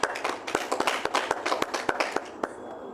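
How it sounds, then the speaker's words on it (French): A church congregation claps together in quick, rhythmic applause. The sharp, even beats ring out clearly for about two and a half seconds, then fade. "Acclamons la parole de Dieu"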